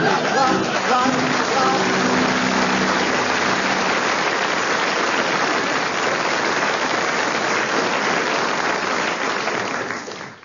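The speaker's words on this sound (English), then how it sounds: "judging from the applause from the audience" A live studio audience at a London radio comedy panel show in 1992 gives sustained, dense applause, loud and steady for about ten seconds before tapering at the end, with some faint music tones early on.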